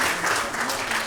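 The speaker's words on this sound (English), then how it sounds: "Let's clap for them." Audience applause at a research institute's Quality Week opening ceremony, a steady wash of many hands clapping throughout the short stretch, fairly close and even in level, with no talk over it.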